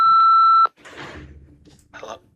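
A payphone gives a long steady electronic beep at a single pitch, loud and close, then it cuts off and a voice speaks over faint line noise.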